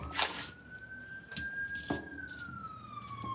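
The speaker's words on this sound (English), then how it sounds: "Sorry if you hear a siren." A distant siren wails faintly and steadily, its tone slowly rising and then dipping, with scattered clicks and rustles close by.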